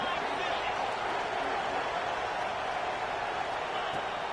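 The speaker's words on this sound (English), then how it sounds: "Listen to this crowd begging its defense to get a stop." A football stadium crowd roars steadily during a late fourth-quarter two-point conversion, a dense, sustained wash of cheering from a large audience with no distinct breaks.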